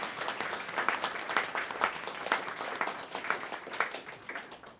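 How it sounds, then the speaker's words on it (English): Audience applause for veterans at a county commissioners' work session, a scattered, moderately quiet clapping with individual claps standing out, steady for several seconds. "Y'all give them a round of applause."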